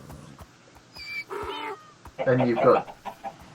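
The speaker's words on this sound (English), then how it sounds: "Then you've got chickens." Minecraft chickens clucking in a couple of short bursts, fairly close and moderately loud, after a brief spoken phrase with other game sounds around.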